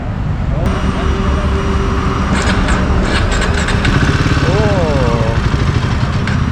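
A Royal Enfield Himalayan 450 motorcycle fires up on its electric starter and settles into a steady, loud, close idle with a throbbing rhythm.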